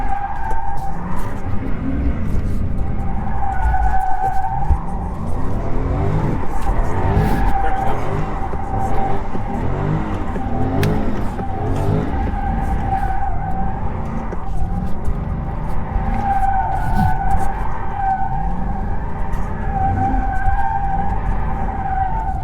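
A Dodge Charger/Challenger drifts in continuous slides, its engine roaring loud and close while the tires squeal and skid in repeated waves throughout, with a voice faintly under the noise.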